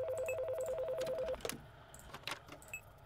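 An old-style telephone in a horror video game rings with a steady warbling trill for over a second, then stops as quieter clicks and game noises continue.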